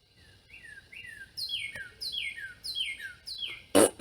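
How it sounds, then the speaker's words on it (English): Birds chirp outdoors in a rapid series of sharp descending tweets, fairly close and repeated in quick succession, ending with a brief loud rustling burst. "I love the birds, but not when I'm trying to do a video."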